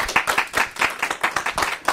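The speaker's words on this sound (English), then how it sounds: "Give Donnell a round of applause, please, if you don't mind." An audience at an author conversation event claps steadily, a close, lively burst of many hands applauding without pause.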